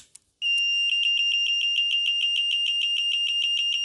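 A loud electronic buzzer beeps in a rapid, steady series of high-pitched pulses after a couple of short clicks, continuing without pause, during repair of an ESC300S unit.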